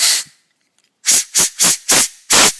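Compressed air from an air nozzle blowing through a wood chipper engine: one hiss, a second of quiet, then five short sharp bursts in quick succession, close and loud.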